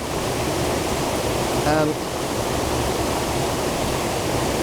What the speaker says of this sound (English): You see, I've got now 2 waterfalls up here.